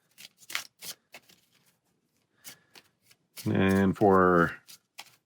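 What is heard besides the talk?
shuffling a deck of game cards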